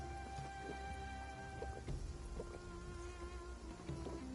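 Steady rain pours across a desert in a video game, a dense continuous hiss of drops on surfaces with low rumbling underneath, unbroken for the whole stretch and free of any voices.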